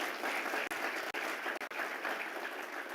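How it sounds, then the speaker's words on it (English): Steady audience applause filling a conference hall, dense and continuous clapping from a large crowd with only a few brief breaks, no voices over it. "So do give them another round of applause,"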